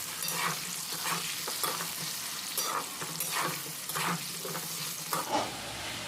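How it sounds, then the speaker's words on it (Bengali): Oil sizzles steadily as potatoes are stirred and fried, with repeated scraping strokes of a utensil against the pan, close and clear. "ভালো করে আলুটা এখানে নাড়াচাড়া করে ভেজে নিতে হবে"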